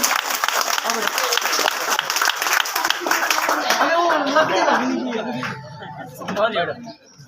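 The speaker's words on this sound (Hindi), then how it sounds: "जोरदार तालियां इस बच्ची के लिए।" Audience at an Urdu-medium school event clapping for a young girl dressed as Gandhi, a dense burst of applause that thins out toward the end as a voice starts speaking.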